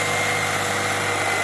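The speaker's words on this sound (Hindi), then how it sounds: "बिल्कुल साफ चल रहा ट्रैक्टर, स्पीड भी ट्रैक्टर की बढ़िया" A Mahindra 275 TU tractor engine runs steadily nearby with a loud, even, rumbling drone and vibration that holds unchanged throughout, with no voices.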